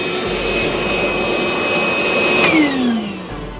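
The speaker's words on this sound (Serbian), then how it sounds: "ovaj usisivač obavlja svoju funkciju" A DeWALT cordless battery vacuum cleaner runs with a loud, steady high-pitched whine, then its pitch sweeps downward as it powers off near the end.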